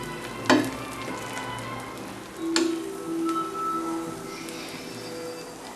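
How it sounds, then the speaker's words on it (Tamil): Egg dosa frying in a pan sizzles softly and steadily, with a couple of sharp scraping or tapping accents from a utensil and no talking. "கொஞ்சம் நல்லா வேகட்டும் முட்டை, அதனால் ஆஃப் ஃப்ளேமில் வைங்க."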